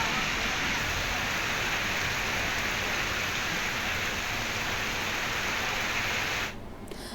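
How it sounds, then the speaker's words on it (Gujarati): Heavy monsoon rain pours steadily across a taluka in Gujarat, a dense, loud, unbroken hiss of downpour that cuts off abruptly near the end. "કુકરમુંડા સહિત તાલુકાના અનેક વિસ્તારોમાં મેઘરાજા મન મૂકીને વરસ્યા."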